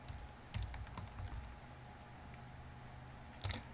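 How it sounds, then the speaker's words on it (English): A passphrase is typed on a computer keyboard in a quiet room: short, soft bursts of close keystrokes, a cluster near the start and another brief flurry near the end, separated by near silence. "the passphrase that I type in."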